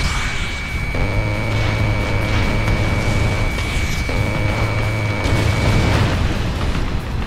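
Loud, dense booms and rumbling blasts from a vehicle destroyed in combat in the Ace Combat Assault Horizon game, repeating in heavy bursts that merge with continuous engine roar.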